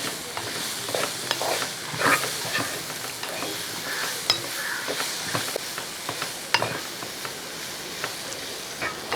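A spoon stirs soya chunks through thick gravy in a hot pan, giving a steady sizzle broken by repeated scraping and clicking strokes for several seconds; no voices.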